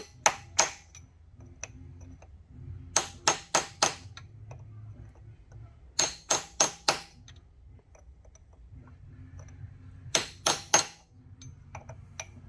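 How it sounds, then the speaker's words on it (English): Sharp metallic hammer-and-chisel strikes on a lock washer against a nut on a Suzuki SV650 countershaft, landing in quick bursts of three or four separated by pauses, ringing briefly against metal over a faint low hum. "now I get to grab my hammer and chisel"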